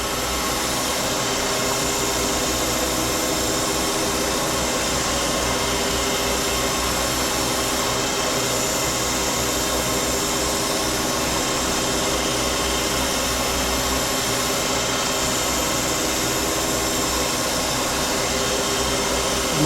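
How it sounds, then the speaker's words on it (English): A grinding wheel works steadily on a small block Chevy crankshaft in a shop, giving a continuous loud whirring hiss with a constant motor hum underneath and no break, close and unchanging. "what you'll hear in a minute is the radius of the wheel just start to bite into the radius of the crankshaft"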